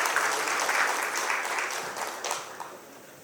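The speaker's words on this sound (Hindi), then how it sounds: "ज़ोरदार तालियों से स्वागत करें." Audience applause at the Vyapar Rajasthan 2022 inaugural conference session hosted by FADA, greeting a minister: steady, dense clapping from a large hall crowd that holds level, then tapers off toward the end.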